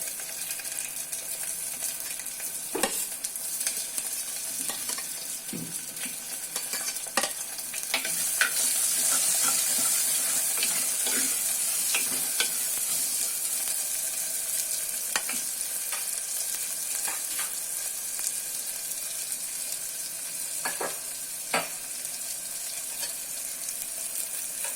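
Chopped onions and green chillies fry in a pan for a Tamil mochai kulambu, with a steady high sizzle across the whole stretch and occasional stirring scrapes and clicks, close up and with no talking.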